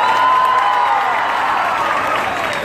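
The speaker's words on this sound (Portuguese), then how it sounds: "Passamos de palmas, gente." Concert audience applauding, a dense continuous wash of clapping and crowd noise, loud and steady with faint cheering.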